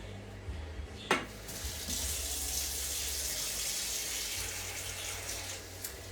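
Tap water runs steadily into a kitchen sink while a lime is washed under it, a close, continuous hiss after a brief knock near the start.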